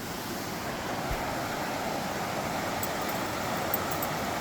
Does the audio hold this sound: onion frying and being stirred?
no